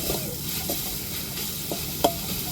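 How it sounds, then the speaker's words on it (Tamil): Ginger garlic paste sautéing in a pan for a squid stir-fry, a soft continuous sizzle with light stirring scrapes and one brief sharper knock toward the end, close and without speech. "நல்லா இஞ்சி பூண்டு பச்சை வடை மாறத்துக்கு நல்லா வதக்கி விட்டுக்கணும்"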